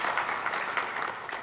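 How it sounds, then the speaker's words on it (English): A congregation at a Sunday worship service applauds, a short, even burst of many hands clapping together at moderate volume, with no voices standing out. "So round of applause, please, for us getting all of the people we needed in the room here and virtually."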